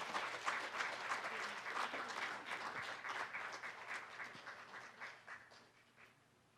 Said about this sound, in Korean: 여러분들은 축하의 박수 한번 다시 부탁드리겠습니다.